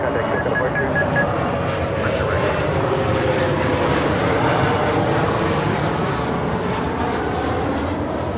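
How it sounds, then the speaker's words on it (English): A CRJ 200 airliner arrives at LAX, a loud continuous jet engine roar holding steady throughout, with a busy airport wash behind it. "It's a CRJ 200 in the Evo Blue livery."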